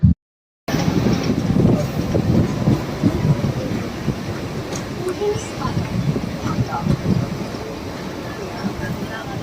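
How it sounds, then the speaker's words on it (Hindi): A Mumbai local train arrives at the platform on its way toward Dadar, a steady loud rumble of rail wheels and carriages running through the whole stretch, with no clear voice rising above it. "ये देखो ट्रेन आ गई है।"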